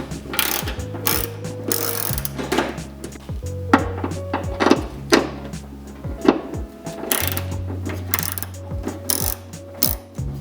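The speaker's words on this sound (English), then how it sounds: "use a socket and socket wrench to remove all 8 bolts, 4 in the center and 2 on each side" A socket wrench ratchets out trunk liner bolts on a 2003-2007 first-generation Cadillac CTS, rapid clicking bursts repeating in uneven runs with brief pauses, close and loud, no voices.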